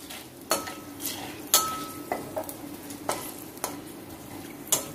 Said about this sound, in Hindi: दो तीन दालचीनी, दो तीन लौंग और दो तीन इलायची है। इसको थोड़ा सा भून लेती हूँ।